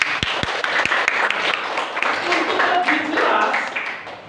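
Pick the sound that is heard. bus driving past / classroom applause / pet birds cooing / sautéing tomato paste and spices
classroom applause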